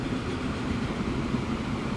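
Trains at a station in the Transport Fever 2 game give a steady, low, rolling rumble with a faint hum, continuous and fairly quiet.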